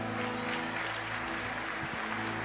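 Dense, steady applause from a large church congregation fills the whole stretch, a continuous wash of clapping with a low hum underneath.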